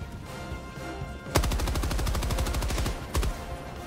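Machine gun firing in the video game Helldivers 2, a loud sustained automatic burst of rapid evenly spaced shots lasting about two seconds, then a brief pause and one more short burst, with no talking.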